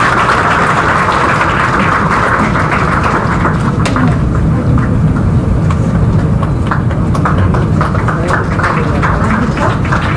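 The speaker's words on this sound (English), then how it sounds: "A huge round of applause, please." An audience applauds at an HR conclave as a guest is welcomed on stage: loud, continuous clapping that stays dense throughout, with heavy low rumble and no clear talk.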